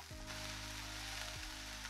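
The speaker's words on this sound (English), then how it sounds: "And now we're gonna caramelize these onions nicely." Onions sizzle steadily in olive oil in a pan over medium heat, a close, even frying hiss with no voices.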